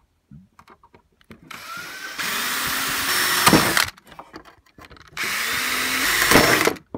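Power drill boring through the side of a metal saddle during installation, two loud sustained whirring bursts of about two seconds each, close up, with small clicks and handling noises between them.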